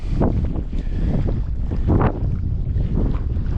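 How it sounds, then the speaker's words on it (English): Cold gusty wind buffets the microphone outdoors beside a trout loch in Sutherland, Scotland, during a fly fishing outing, a loud continuous low rumble with stronger gusts and no talk. "Blowing very cold, actually getting cold fingers, and the next minute it's blowing warm."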